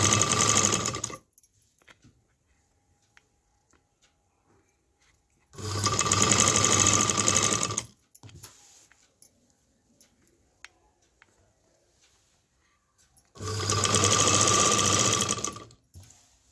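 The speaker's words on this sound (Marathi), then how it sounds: "बरोबर साडीच्या लेवलला फॉल्ट ठेवायचा आहे आणि शिलाई मारून घ्यायची आहे सरळ" A domestic sewing machine runs in three bursts, stitching a fall along the edge of a saree. Each burst is loud, close and steady, with quiet pauses and small clicks between them and no talking.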